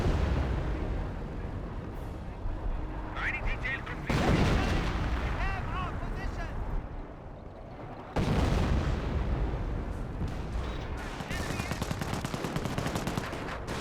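Artillery shell striking a Geschützwagen in the WWII strategy game Company of Heroes, heard as repeated loud blasts and gunfire bursts, with sharp onsets near 4 and 8 seconds, mixed with battle noise and voices.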